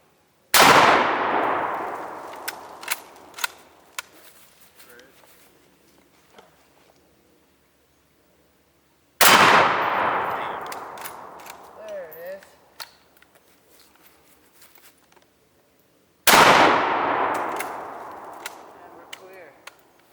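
Three loud, sharp rifle shots from a Mosin chambered in 7.62x54R, each one ringing out and trailing off into a long decaying echo across an open shooting range, with long quiet gaps between them.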